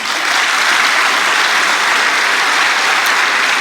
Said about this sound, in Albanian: për cilat unë ju kërkoj një duartrokitje